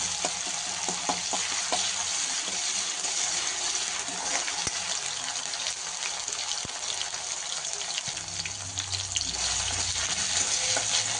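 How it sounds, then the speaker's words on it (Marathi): Ginger garlic paste sizzling in a frying pan for a homestyle keema: a constant dense close sizzle with occasional faint utensil taps, steady throughout. "अद्रक लसूणची पेस्ट पण टाकते."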